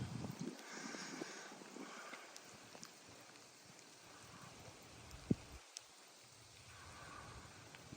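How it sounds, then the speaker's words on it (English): Heavy rain pours over the boat launch at Barrier Lake in Kananaskis, a steady broadband hiss with wind buffeting the microphone and a couple of sharp taps near the end, with no voices. "But it is still just pouring."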